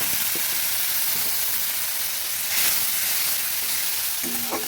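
Spices, chilli powder and a splash of water sizzle steadily in a hot pan while cooking a vegetarian banana-flower dish, a continuous close hiss that swells briefly midway, with no talking.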